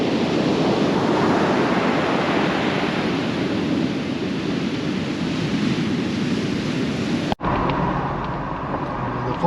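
Atlantic Ocean surf breaking on the beach at Canaveral National Seashore in Florida: a loud, steady roar mixed with heavy wind buffeting the microphone, cutting off abruptly near the end into a quieter, thinner background.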